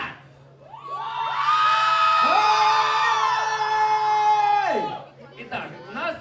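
A live J-Rock convention audience shouts, whoops and cheers together in a loud sustained burst that swells and then fades, with scattered voices after.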